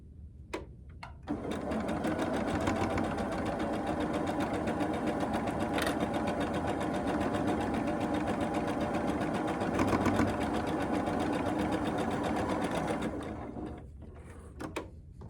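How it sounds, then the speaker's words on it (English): A sewing machine runs a steady, fast stitching drone while sewing a quarter-inch seam along a quilt block edge, starting after a second and stopping near the end, close and loud with no talk. "So now I'm going to just sew 1/4 inch down the edge."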